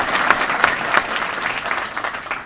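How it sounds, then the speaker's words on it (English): An audience at a school district gathering gives school board members a round of applause, a dense, steady patter of many hands clapping at moderate distance that tapers off slightly toward the end. "round of applause"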